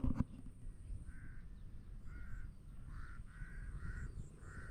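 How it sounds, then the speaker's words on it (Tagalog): Many crows caw repeatedly at a distance over a corn and okra farm, their harsh calls coming in a loose rhythm over a steady low rumble of outdoor noise. "napakarami po ng uwak"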